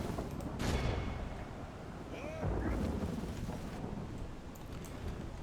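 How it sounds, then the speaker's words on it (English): Artillery fire in a Warhammer strategy battle: a couple of deep, muffled booms roll out amid constant rumbling battlefield noise, with no single blast standing clearly above the din. "they're using their artillery now"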